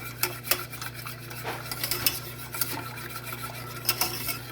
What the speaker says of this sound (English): we're gonna continue to stir